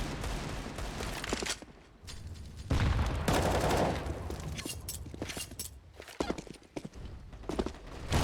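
Rapid Tech-9 pistol fire in a Counter-Strike match on the Inferno map, loud bursts of shots mixed with busy in-game action and footsteps, a dense, clattering stretch with brief lulls.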